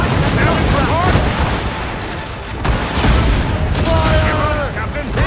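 Naval battle cannons firing in Assassin's Creed Rogue: a dense, continuous barrage of booming shots overlapping with shouted crew commands and whistling projectiles, loud and close throughout.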